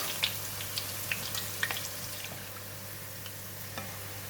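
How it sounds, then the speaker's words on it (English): Garlic frying in oil in a pan for a Thai pork dish, a faint steady sizzle with scattered small pops and crackles, quiet and close, no talking. "So we're going to fry the garlic first"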